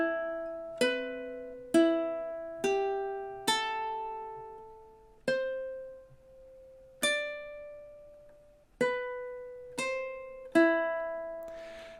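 A ukulele plays the theme from The Exorcist very slowly, one plucked note at a time with clear gaps between them. Each note rings bright and close, then fades before the next pluck in a measured, even pulse.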